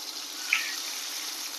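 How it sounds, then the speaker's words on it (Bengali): Water poured off hilsa fish while cooking, a steady soft splashing trickle like a running tap lasting under two seconds, with one brief brighter splash near the middle. "ইলিশটা জল ফেলে দিলাম"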